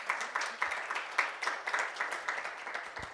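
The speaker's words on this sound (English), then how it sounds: "I'm sure we can give her a bigger round of applause." Audience at a women's business pitch competition applauding after a presentation, a moderate, somewhat distant patter of clapping with individual claps audible in an uneven rhythm, fairly thin crowd.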